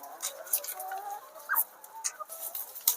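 Layer hens cluck and scratch close by, eating puffed rice, with soft pecking and scattered short calls over a busy farmyard background.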